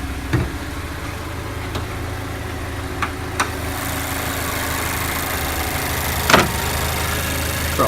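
A 2014 Mazda 6's 2.5-liter four-cylinder engine idles smoothly and close by, a steady low hum with a few light clicks and one louder clunk, no voices.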